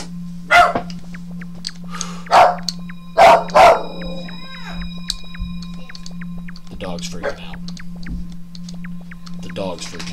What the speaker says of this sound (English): I think I scared the dog.